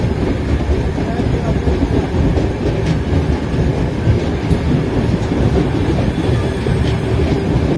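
Puri Howrah Express train running on its rails after leaving Puri station: a steady, loud rumble and rattle of carriages with faint clickety-clack, continuous through the whole stretch, heard from on board.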